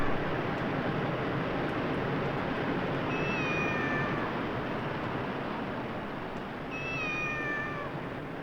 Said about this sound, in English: Cat, seriously.